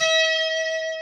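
One sustained normal fretted guitar note rings steadily with bright overtones, decaying slightly over about a second, alone and close.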